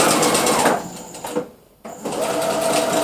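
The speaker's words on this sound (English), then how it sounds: "We use the normal sewing stitch using a return stitch so that it sews backward." A sewing machine running a return stitch backward on knitwear, a loud, close, steady whirring hum that slows and briefly stops in the middle before running on again.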